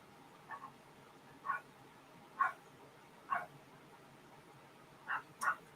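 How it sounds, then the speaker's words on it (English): Dogs bark outdoors at a distance, six or so short sharp barks spaced irregularly across a quiet background, faint and alone with no talking. "I have barking psychos out there."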